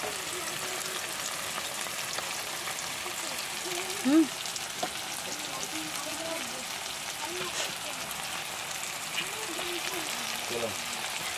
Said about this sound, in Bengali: এখন এই যে মশলা আদা রসুন লঙ্কা পিষানো, এবার এটাকে অতি ঢেলে দিচ্ছি।